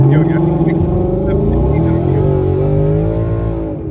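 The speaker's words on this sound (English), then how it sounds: "The Corsa mufflers are so damn loud. This is a boosted supercharger." Supercharged Ford Coyote V8 with Corsa mufflers rumbling and revving loudly nearby, a deep throaty exhaust drone that swells and holds, with a voice talking over it.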